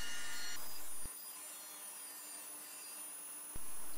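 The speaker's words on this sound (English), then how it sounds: "so I'm just skip planing it." A planer skip planes quarter sawn Tasmanian oak boards, with a steady whine and rushing hum nearby, a short thump, and a deeper cutting tone in the first second and again after about three and a half seconds.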